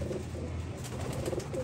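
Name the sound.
Royal Teddy pigeons cooing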